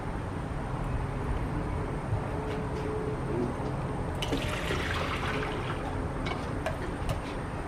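Liquid pours steadily from a cup into a container for a spice mix, a soft continuous splashing trickle, close and fairly quiet, with a brief brighter gush midway.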